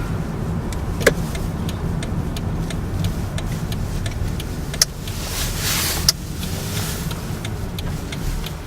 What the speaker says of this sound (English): So there's Ross parks the car.